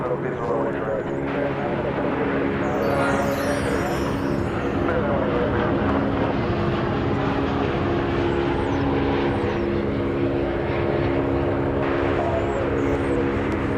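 At DFW Airport, a jet departs for Phoenix with a steady engine drone and tonal whine holding through the stretch at moderate distance, joined by a brief higher whistle early on and occasional faint voices in the background.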